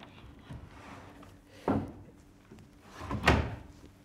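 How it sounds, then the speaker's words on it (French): Wooden drawer at the bottom of a Creole mahogany wardrobe sliding open or shut, two or three close, dull thumps and scrapes with a quieter rustle between, no speech. "Il y a un tiroir en bas."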